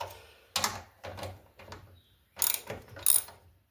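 Ratcheting clicks from a 1/2-inch wrench loosening the axle bolts on a riding mower with an RS800 transmission, several short close bursts separated by pauses, no talking.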